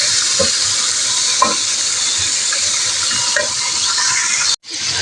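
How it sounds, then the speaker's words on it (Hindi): About 1500 grams of chicken sizzles loudly in a pot, with a steady frying hiss and a few scraping stirs along the way; the sound cuts off abruptly near the end. "बहुत अच्छे तरीके से इसको फ्राई करेंगे कि जब तक गोश्त की रंगत ना बदल जाए"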